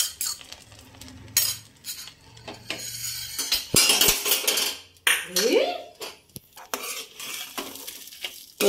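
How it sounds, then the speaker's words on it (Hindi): A spoon stirs semolina kheer with fried dry fruits in a metal pot, giving close, irregular scrapes, clinks and knocks over a faint sizzle. "तो ड्राई फ्रूट्स देने के बाद इसको मैं मिक्स कर लूँगी।"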